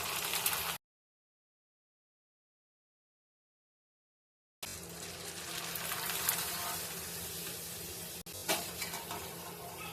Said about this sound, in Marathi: इथे नाचणीचे पापड तळून घेऊयात